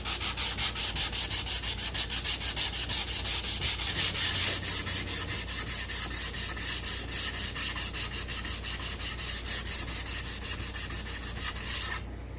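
A sander works a wood contour by hand, an even close rasping drone pulsing in quick regular strokes for about twelve seconds, cutting off right at the end.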